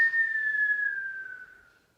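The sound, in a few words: group whistling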